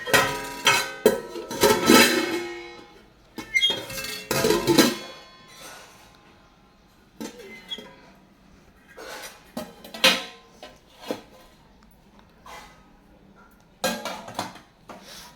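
A steel plate and a kadai clatter and clink together in bursts of metallic knocks and scrapes, loud at first, then lighter taps spread through a quiet room.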